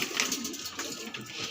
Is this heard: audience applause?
no